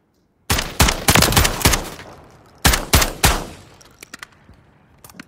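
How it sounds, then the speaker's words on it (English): Saiga 12 semi-automatic shotgun firing in Call of Duty Modern Warfare III, loud sharp blasts in two quick bursts of several shots each, with echoing tails and a few faint clicks after. "So the Saga 12... Nice little shotgun there."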